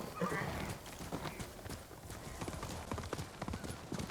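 Steady, fairly faint horse hoof clip-clops from Ghost of Tsushima tap out a continuous trotting rhythm, with a brief whinny-like sound near the start.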